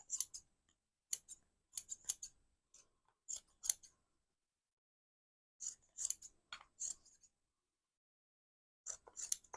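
Scissors snip through fabric for Christmas rag and pom pom hair bobbles, with quick crisp cuts coming in short bursts of several snips and quiet gaps between them, close and clear.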